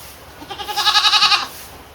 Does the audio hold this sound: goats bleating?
yes